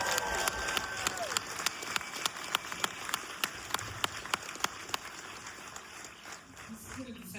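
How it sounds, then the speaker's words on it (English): Applause and cheering from a crowd greeting the film cast at a movie premiere, a busy wash of clapping punctuated by sharp, regular nearby claps, with voices mixed in throughout. "Full round of applause to this incredible cast."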